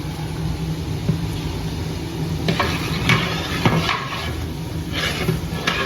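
Chillies fry in hot oil in a pan, giving a steady, close sizzle with occasional scraping stirs and light clicks over the continuous hiss.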